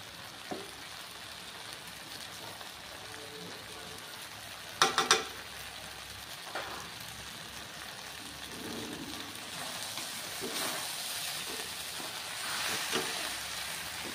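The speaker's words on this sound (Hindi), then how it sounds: "मसाला डालते हुए अच्छे से मिक्स कर लेंगे" Fried okra with garam masala is stirred in a pan over a low flame, giving a steady soft sizzle with occasional utensil scrapes and a sharp clatter near the middle.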